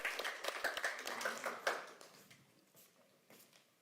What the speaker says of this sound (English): I would like you to welcome Wojtek and Kuba with a round of applause for them.